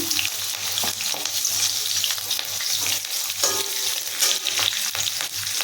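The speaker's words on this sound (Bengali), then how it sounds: "সর্ষের তেল ব্যবহার করছি বেশি লাগবে না আমি তিনটে লঙ্কা দিয়েছি" Three green chillies fry in mustard oil in a kadai, a dense close sizzle with intermittent spatters and scraping stirs running throughout, with no one speaking.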